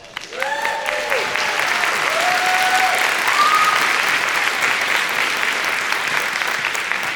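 An audience at a college scholarship awards ceremony breaks into loud, sustained applause, with whoops and whistles rising above the clapping throughout.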